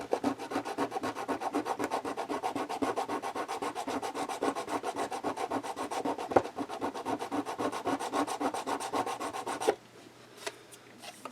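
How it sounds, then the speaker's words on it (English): Sandpaper rubbed steadily against a plastic model kit piece, likely for a grain elevator kitbash, giving a dense run of rapid rasping strokes close up, then breaking off near the end into a few faint handling sounds. "I think this piece here needs to be sanded a little bit more."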